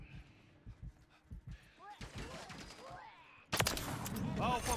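Gunfire in the video game Call of Duty Modern Warfare III, sharp bursts and rapid volleys that grow heavier and louder near the end, with a player talking in between.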